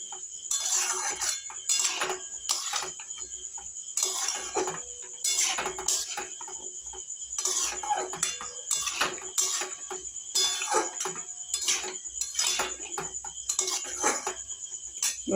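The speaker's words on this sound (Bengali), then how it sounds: "দিয়ে এইভাবে একটু কষিয়ে নেব।" Chana masala stirred in a wok, with a spoon clinking sharply against the metal pot in repeated, irregular bursts, close and clear with no talk.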